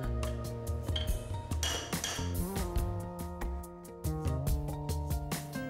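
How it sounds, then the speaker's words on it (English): Metal clinks and pings as a chisel taps roller bearings into a Samgong purifier's lower bearing cover, a series of sharp, ringing strikes with lingering tones, close up and alone. "If the bearings do not insert smoothly, tap them with a chisel."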